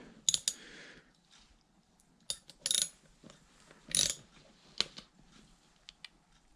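A socket is worked loose on an Oster blender during repair, producing scattered metallic clicks, ratcheting clatter and a few sharp clanks separated by quiet pauses, with no talking.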